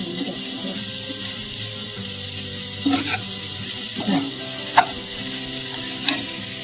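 Salt and masala being stirred into a pan for a paneer dish, with a steady sizzle underneath and a few louder scrapes of the spoon against the pan, close by. There is no talking.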